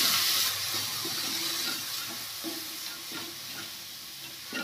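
Samosa filling with spices and boiled peas is stirred in a pan, a soft steady sizzle and hiss with light scraping strokes, close and fairly quiet, with no voices.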